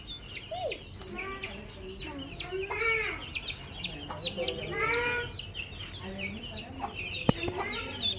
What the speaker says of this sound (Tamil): இதான் கோழி.